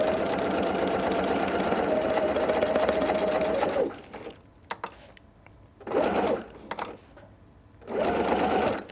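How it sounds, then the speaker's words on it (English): Sewing machine stitching the side seams of a drawstring backpack, backstitching over a tab: a steady, close motor whir for about four seconds, then two shorter bursts of stitching separated by quiet handling pauses. "backstitch over the tab as you're sewing the side seams"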